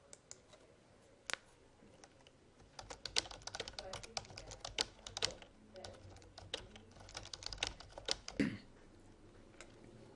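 Fast, steady typing on a computer keyboard, with quiet close-up key clicks and occasional louder taps in irregular bursts.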